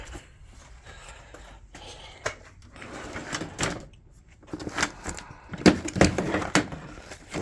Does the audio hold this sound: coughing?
no